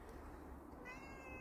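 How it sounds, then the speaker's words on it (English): A house cat gives a single short, faint meow against a quiet room background. "Oh, hey kitty."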